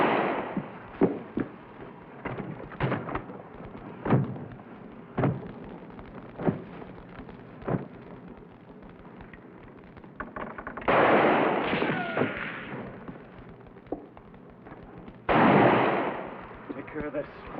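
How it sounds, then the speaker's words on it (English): Gunfire aimed toward a wagon in a western TV drama: a string of sharp, evenly spaced shots rings out, followed later by two longer, louder rushing bursts. "Just fire toward the wagon when I go."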